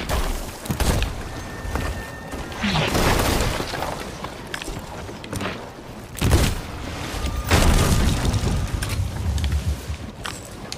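Ship cannons firing in the pirate game Sea of Thieves, repeated heavy booms with crashing, splintering impacts, loud and close, several shots spaced across the stretch amid rumbling game noise.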